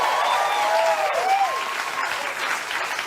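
Studio audience on Stephen Colbert's late-night talk show applauding steadily for a decorated Afghan War veteran guest, a dense sustained wash of clapping with a few faint tonal sounds in the mix.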